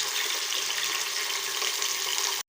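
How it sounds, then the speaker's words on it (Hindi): Meat frying in a pot before garlic and ginger are added, a loud, steady close-up hiss of sizzling fat that runs unbroken and then cuts off abruptly. "अब ये गोश्त तला जाएगा, पहले गोश्त तल लेंगे फिर लहसुन अदरक डाल के तलेंगे"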